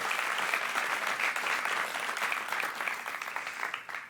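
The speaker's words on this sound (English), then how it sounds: "Let's give them a round of applause." An audience at an evening talks event claps in sustained, dense applause that holds steady for several seconds at moderate distance and fades slightly toward the end, with no voices over it.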